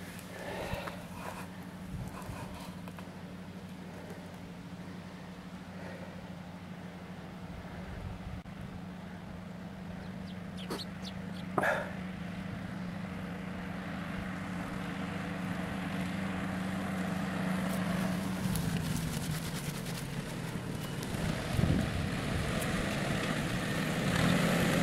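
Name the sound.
tractor approaching on farm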